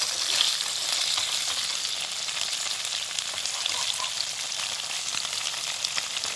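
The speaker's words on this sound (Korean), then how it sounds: "이렇게 노릇하게 지금 이제 구워지고 있거든요" Tofu browning in a hot pan gives a steady, dense sizzle of frying oil that holds at an even level throughout, with light crackle and no voices.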